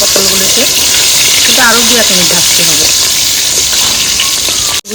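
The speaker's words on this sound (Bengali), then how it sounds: "দিয়ে আমি ভালো করে ভাজতে হবে পটলটাকে" Pointed gourd (potol) pieces frying in oil in a pan, a steady close sizzle running throughout with occasional stirring and a brief voice murmuring over it, ending with an abrupt cut.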